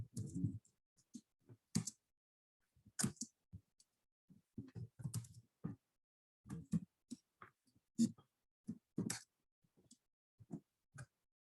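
Someone types a message on a computer keyboard, producing quiet, irregular bursts of close keystroke clicks separated by short pauses, with no voices.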